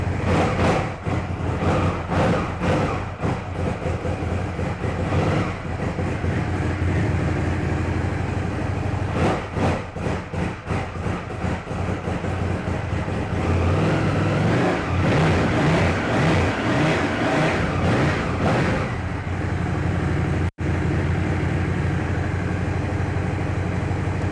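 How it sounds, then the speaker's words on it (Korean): A 2019 Ducati Scrambler 1100 Sport's engine revs loudly through its exhaust, a sustained rumbling drone with repeated throttle blips and a brief cut near the end, with no talking. "폴더풀러의 배기 사운드는 조용하지만 그래도 두카티 엔진을 본연의 필링을 느끼기에는 충분한 배기 사운드를 가지고 있고요."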